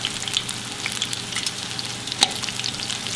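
Steady, close sizzling and crackling of fish frying in hot oil in a skillet, with occasional sharper pops and no talking.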